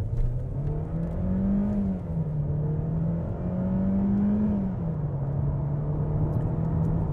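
2018 Mercedes A-Class with a turbo engine accelerating hard from 0 to 100 km/h, heard from inside as a steady droning engine note that climbs in pitch, drops at each gear change and climbs again.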